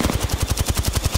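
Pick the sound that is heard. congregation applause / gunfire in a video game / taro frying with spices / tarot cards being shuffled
gunfire in a video game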